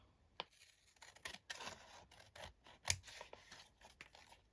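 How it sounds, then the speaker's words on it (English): Sticky scissors trim excess from a glued paper napkin with a series of quiet, crisp snips and soft paper rustles, close and faint, with irregular pauses between cuts. "take my sticky scissors"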